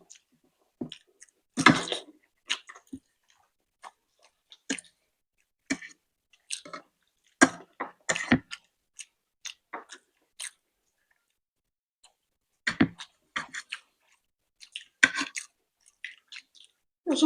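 Boiled egg being chewed during a Bengali eating challenge, with close, wet bursts of chewing and biting spread across the stretch, separated by quiet gaps and no talking.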